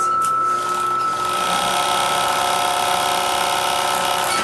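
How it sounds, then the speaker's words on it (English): An overlock sewing machine stitching seams runs as a fast, steady mechanical whir with a high whine, loud and continuous after a brief start. "So I'm going to overlock both of the seams that I have attached."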